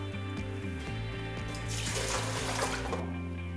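Water runs steadily from a kitchen tap into a pot to make a brine for grilled chicken wings, a continuous splashing hiss that swells in the middle over a low steady hum, with no talk.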